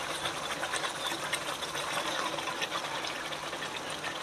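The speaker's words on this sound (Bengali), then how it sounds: "এবারে আমি এই যে ম্যারিনেট করা মাংসটা দিয়ে দিলাম, আস্তে আস্তে দিয়ে দেবো।" Marinated chicken is eased into a pan of cooked spices over a village cooking fire, raising a steady, dense sizzling hiss that carries on evenly with no pauses.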